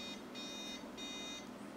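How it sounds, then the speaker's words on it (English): A Ninja DualBrew Pro coffee maker sounds a short series of high electronic beeps, three bursts in a steady rhythm, clear and close against a low room hum. "It will also beep."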